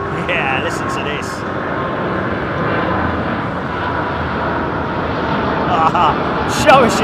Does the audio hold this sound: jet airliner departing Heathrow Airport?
yes